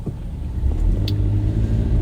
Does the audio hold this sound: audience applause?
no